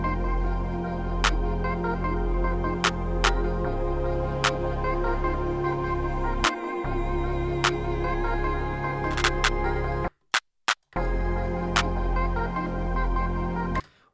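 Programmed electronic drum beat with a clap pattern shifted around rather than repeating identically, steady loud low-end kicks under regularly spaced sharp clap hits, with one brief dropout near the end and no talking.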